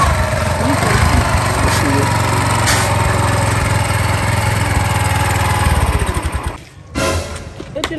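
A motorcycle taxi engine idles close and loud in a steady, rattling drone, then dips and cuts out briefly near the end before picking up again.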